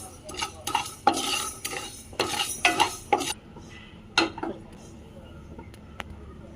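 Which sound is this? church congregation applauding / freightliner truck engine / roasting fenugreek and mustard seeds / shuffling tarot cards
roasting fenugreek and mustard seeds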